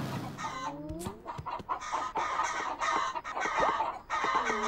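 Chicken clucking and squawking in a video game, a rapid series of close, bright clucks in quick bursts, with no talking.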